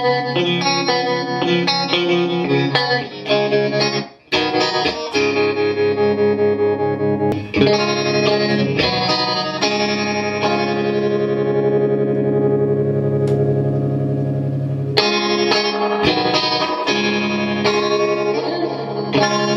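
Electric guitar played through a Fender '68 Deluxe Reverb Custom amp with vibrato engaged, strummed chords and picked phrases pulsing with a wavering tremolo shimmer and reverb tails, loud and alone, with brief pauses between passages.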